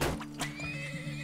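A horse neighs in the video game Turmoil, a single loud whinny that trails off into a wavering cry over a steady background hum, with no talking.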